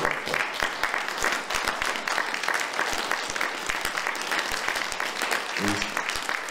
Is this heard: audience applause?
yes